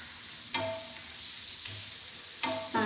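Lentils being stirred in a pan while roasting for payasam, a low continuous sizzle broken by a few scraping strokes of the spoon, quiet and close.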